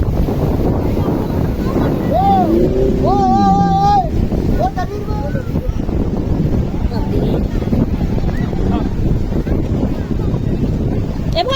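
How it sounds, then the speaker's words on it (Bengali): A speedboat ride off Juhu Beach, Mumbai, with steady wind buffeting the microphone and a continuous rush of engine and water throughout, while people talk and call out over the noise. "স্পিড বোট আমাদেরকে আবার পৌঁছে দিয়েছে যথাস্থানে"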